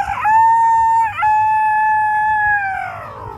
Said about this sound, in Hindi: अपना गांव वाला भी मुर्गा similar that red jungle fall आवाज करता है